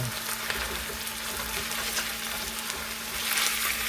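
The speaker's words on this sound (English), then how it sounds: "we got a nice little sear going on" Beef sears in a hot cast iron Dutch oven for stew with a loud, continuous sizzle and hiss, swelling slightly toward the end, and no voices.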